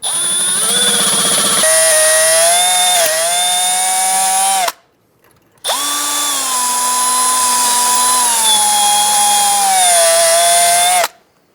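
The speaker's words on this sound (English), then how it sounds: "I'm going to use a drill bit and just drill it out" A power drill bores out a stuck steel cotter pin in the ball joint of a 2007-2011 Toyota Camry steering knuckle, whining loud and close in two long bursts. The motor pitch sags and rises under load, with a brief pause between.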